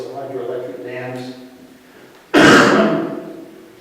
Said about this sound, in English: Excuse me, I'm sorry for coughing.